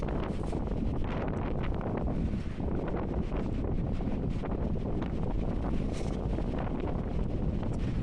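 Strong wind buffets the microphone along a seafront in January, a loud, constant roaring rush with no letup, carrying no voices.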